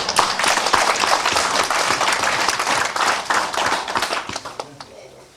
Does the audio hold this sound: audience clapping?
yes